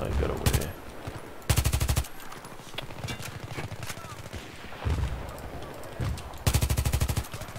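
Automatic rifle fire in the video game Battlefield 3, an ACW-R with heavy barrel: loud rapid bursts of shots in several separate volleys, with game sounds and some talk in between.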